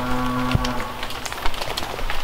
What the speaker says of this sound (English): Farmers out there tending to the cows